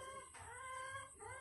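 Short, faint clucking from chickens on a rural picnic spot in Quezon, Candelaria, two quick calls over quiet background, no speech.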